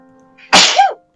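One sharp, close sneeze with a quick intake of breath and a loud, explosive burst that trails off into a short voiced tail, heard alone.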